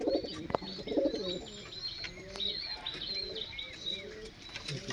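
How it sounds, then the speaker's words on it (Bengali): A pair of Kaldom pigeons, male and female, coo softly and repeatedly at close range, with light chirps and a brief flutter of wings. "এটা মাদা পায়রা আর এটা নর।"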